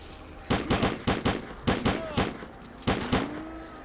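Semi-automatic gunfire from an in-game rifle in S.T.A.L.K.E.R.: Clear Sky, set in a swamp area, heard as loud, sharp single shots fired in quick uneven bursts of three to five, with short pauses between groups.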